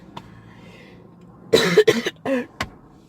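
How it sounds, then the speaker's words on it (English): A short burst of several harsh coughs in quick succession, close by, following a quiet stretch. "I still have a cough"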